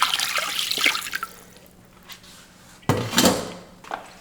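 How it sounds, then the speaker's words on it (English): Water splashing and pouring into a container holding brisket in brine, a soft trickle early on and then a louder gush near the end, heard close with no talk. "I'm gonna actually put more water here."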